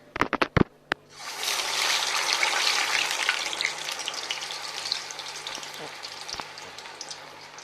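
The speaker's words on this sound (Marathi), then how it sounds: "आता हे आपण वडा तळायला घेऊया." Urad dal vadas sizzle steadily in hot oil as a fresh batch goes in, a loud, dense frying hiss that rises after a few clicks and holds for several seconds, with no talk.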